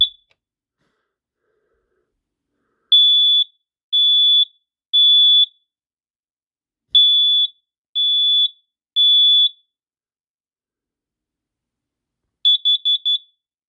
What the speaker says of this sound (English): 3 long beeps for the smoke detector